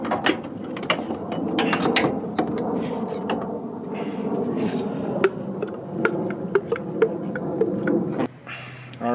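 A hand ratchet clicks rapidly and steadily while snugging up the top shock bolts on a C6 Corvette, close and continuous, with a brief pause and a final few clicks at the end.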